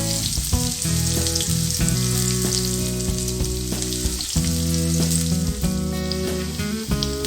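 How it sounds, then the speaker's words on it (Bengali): Onions frying in a pan, a loud continuous sizzle and crackle held close, with occasional knocks and scrapes of a utensil, no one talking. "প্রথমে আমি অল্প পরিমাণ পেঁয়াজ ভেজে নেব।"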